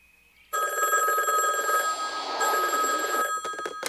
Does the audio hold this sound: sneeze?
no